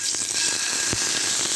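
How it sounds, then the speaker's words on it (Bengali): Grass carp fish head dropped into hot oil in a pan over a lit stove, giving a steady close sizzle and crackle with a brief louder spit partway through. "তার জন্য এই যে তেল গরম করে নিয়েছি, আর এখানে চুলায় 2 চুলা জ্বেলে দিয়েছি। দেখেন, আমি প্রথমে মাথাটা দেব।"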